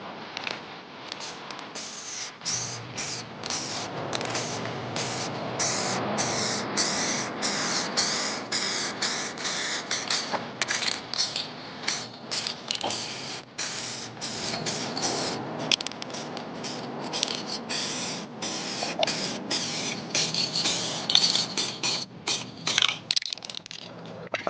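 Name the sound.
spray can painting a car bumper touchup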